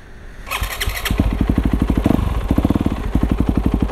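A Yamaha YZ250FX supermoto motorcycle engine cranks on its electric starter and catches, settling into a loud, rapid, pulsing idle right up close.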